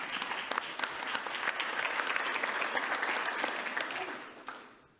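Conference audience applauding after a panel session, a dense wash of clapping that swells slightly mid-way and then tapers off toward the end.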